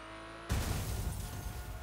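A Porsche in the racing video game The Crew hums with a steady engine drone, then a sudden loud crash-like burst hits about a third of the way in and sustains as rough, noisy rumble.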